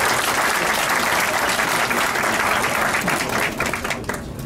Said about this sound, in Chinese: 非常精彩，我们掌声。